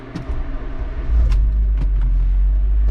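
An 8th-generation Honda Civic Si running on a dyno with factory settings, its engine idling with a heavy, steady low rumble that swells after about a second, plus occasional clicks and knocks close by.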